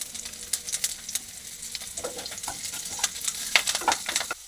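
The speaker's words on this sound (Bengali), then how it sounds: "আমি এই যে কারি পাতা আর কাঁচা লঙ্কাটা রেখেছিলাম ওর মধ্যে দিয়ে দেবো" Curry leaves and green chillies dropped into hot frying oil with lightly fried onions, crackling and spitting in bursts, close and steady over a continuous sizzle with brief stirring scrapes, no voices.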